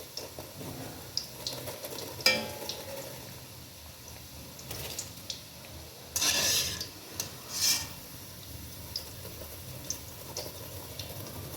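Crunchy homemade fried chicken nuggets give off a few sharp, close crackling crunches, heard alone with no talk and quiet between bites.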